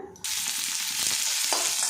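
Shelled green peas hit hot white oil in a heated kadai, a sudden loud sizzle that starts abruptly and then holds as a steady, bright frying hiss.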